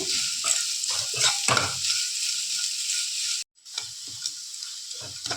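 Grated carrot fries in a pan, hissing with a steady bright sizzle while a spoon scrapes and stirs it in close, irregular strokes. The sound drops out briefly partway through, then the frying resumes.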